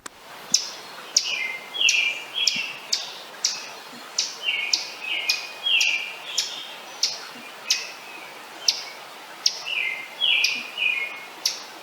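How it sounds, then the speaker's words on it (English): An ovenbird chirps madly in the woods at MacGregor Point in July, a loud run of rapid, repeated phrases in quick bursts, regularly spaced and close by, with sharp ticking clicks marking the rhythm and no voices. "the video I just showed of the ovenbird chirping madly"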